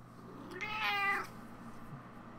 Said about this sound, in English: You hear a meow.